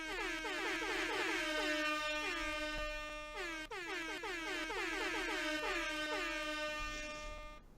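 Loud, continuous air horns blaring together in sweeping, overlapping tones, pitch bending repeatedly like a chaotic chorus for several seconds.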